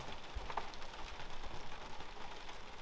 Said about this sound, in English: I don't do getting up at this time, but the rain woke me up.